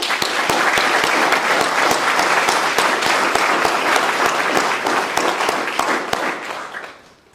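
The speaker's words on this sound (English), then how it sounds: "let's give those people a round of applause who might not be here." Loud, sustained applause from a crowd at a university ROTC commissioning ceremony, dense clapping that holds steady for several seconds before fading out at the end.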